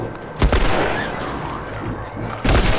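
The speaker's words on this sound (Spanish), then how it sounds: "le he dado un tiro, tengo que darle otro" Two sharp gunshots crack out about two seconds apart over a steady background hum and low game ambience in The Last of Us.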